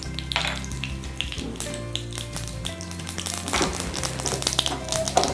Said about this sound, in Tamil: எண்ணெய் சூடாயிடுச்சு, கடுகு சேர்த்துக்கலாம்.